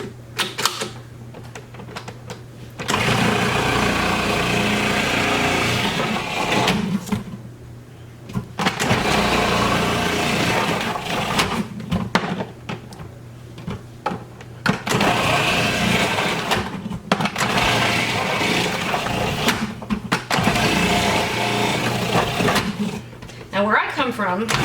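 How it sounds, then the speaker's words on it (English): A food processor grates russet potatoes and onion in several loud, whirring bursts separated by short pauses, with a steady motor drone under each run, and a person talks between and over the bursts. "And just chunk it up because it's easier to get it through the processor."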